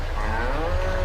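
Cattle moo in Farming Simulator 25, one drawn-out, loud bovine call on a livestock farm.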